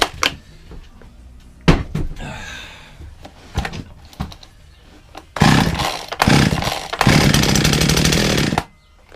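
An old chainsaw that has been sitting unused is pulled several times by its cord, giving sharp bursts and sputters, then catches and runs loudly in a few sustained roaring stretches before cutting out.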